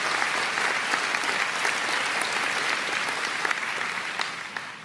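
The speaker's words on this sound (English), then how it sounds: "Let's have another round of applause, please," An audience applauds the Jubilation Choir at a celebration of Dame Jools Topp, with dense, steady clapping that holds for the whole stretch and tapers slightly near the end.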